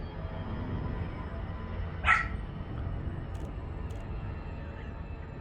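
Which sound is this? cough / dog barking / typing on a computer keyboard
dog barking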